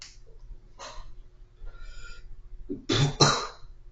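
A person coughs and clears their throat after breathing in smoke, with a few sharp isolated hacks early on followed by two louder, harsher coughs close together near the end, heard up close and alone.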